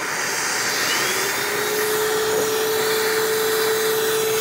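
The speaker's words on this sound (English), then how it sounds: "I'm going to turn on my vacuum cleaner" A vacuum cleaner roars steadily and loudly up close while assisting the heating and pouring of sterling silver, a constant whooshing drone with a faint whine rising partway through.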